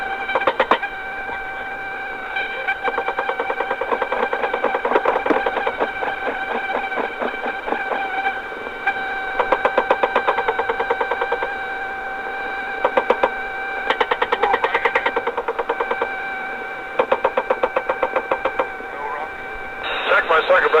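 A helicopter's machine gun fires in rapid, repeated bursts throughout, heard through a thin, narrow, radio-like recording with steady static, the chattering bursts coming in irregular clusters.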